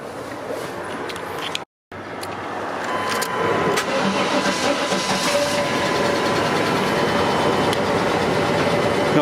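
A 1995 GMC 2500 van engine runs at a steady idle with a constant rumble and hum, briefly cutting out near the start before continuing evenly.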